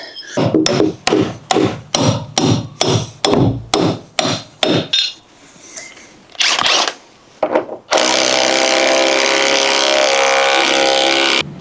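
A Bosch 18V impact wrench drives a dyno bolt into concrete, giving a rapid series of about ten loud, evenly spaced hammering bursts, then a pause with a few scattered knocks before a long, steady, loud run of continuous impacting.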